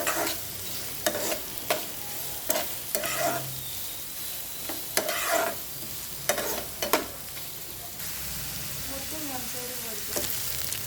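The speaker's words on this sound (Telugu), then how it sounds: "ఆనియన్స్ని ఆయిల్లో కొంచెం వేయించుకోవాలి బాగా." Chopped onions fry in hot oil in a pan, giving a steady soft sizzle broken by repeated scraping stirs at close range, with no talk.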